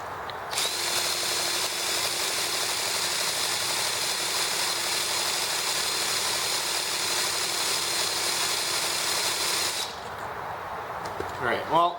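A small EM2 engine runs with a fuel leak spraying from its side, giving a steady high buzzing drone for about ten seconds before cutting out, followed by a brief rattling click.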